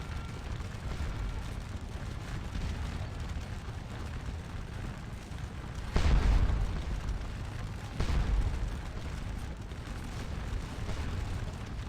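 Artillery rumbles across a Napoleonic battle in a strategy game, the Battle of Wavre between Prussians and French. It makes a continuous low roar of distant guns, with two heavier, closer booms about two seconds apart standing out.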